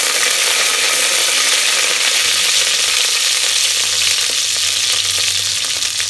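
Coriander seeds, peppercorns and curry leaves dry roasting in a pan for country chicken curry, a loud, dense, continuous rattling crackle with steady scraping stirs close by.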